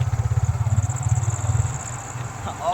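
A motorcycle engine runs nearby with a loud, rapid, throbbing low putter that keeps an even rhythm, then eases slightly toward the end.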